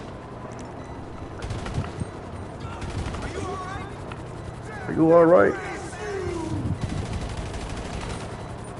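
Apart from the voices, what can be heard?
gunfire in the video game GTA Online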